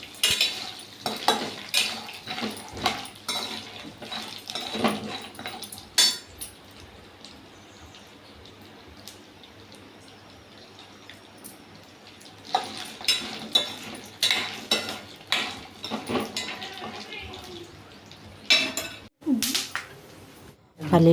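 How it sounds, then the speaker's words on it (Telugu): Coconut pieces and peanuts fry in a pan while a spoon stirs them, producing bursts of clinking and scraping over a faint, steady sizzle, with a quieter stretch in the middle. "అలా స్లిమ్లో పెట్టి ఆ రెండింటిని వేయించుకోవాలి."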